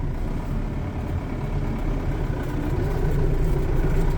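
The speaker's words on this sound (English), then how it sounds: "Yes, the tractor's getting grouchy." A tractor engine idling outdoors on a winter farm, a steady, loud, close low rumble with no talking.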